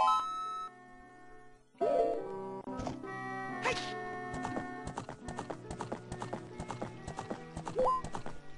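Horse hooves clip-clop in a steady trotting rhythm in The Legend of Zelda: Ocarina of Time, layered over game music with a brief whinny, moderately loud and continuous.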